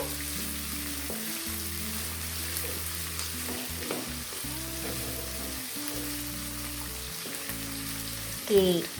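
Green chillies fry in oil in a pan for avarekalu chitranna, a continuous close sizzle with a background hum and a brief scrape near the end.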